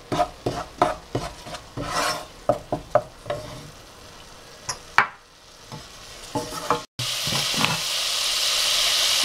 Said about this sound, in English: The seeds are spluttering now.